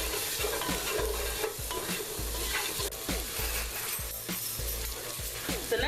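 Onions and garlic soften in a pan for Caribbean-style oxtails, sizzling continuously while a utensil repeatedly stirs and scrapes with a steady rhythm.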